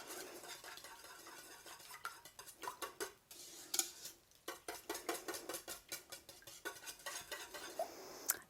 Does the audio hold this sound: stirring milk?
yes